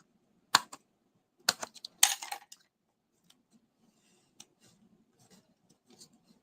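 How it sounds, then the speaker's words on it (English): Scissors snip narrow strips of paper for a motif, a few sharp crisp cuts close by, then faint scattered rustles and small taps in an otherwise quiet room. "So just gonna cut the little narrow pieces from here."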